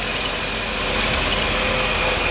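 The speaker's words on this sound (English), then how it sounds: "Here's that truck running." A truck engine idles steadily in a shop with the breather lid off, a smooth, even, quiet rumble that holds close and alone throughout.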